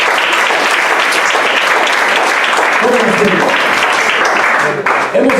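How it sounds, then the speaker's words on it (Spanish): A church congregation breaks into sustained applause, dense and even clapping filling the room for several seconds, with a few voices surfacing near the end. "Un aplauso para Cristo"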